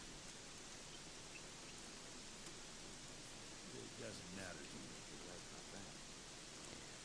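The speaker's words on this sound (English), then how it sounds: "Jeez, that rain." Steady rainfall in the video game Gothic 3, a continuous broad hiss of falling rain with a faint low rumble and a soft voice-like murmur briefly under it.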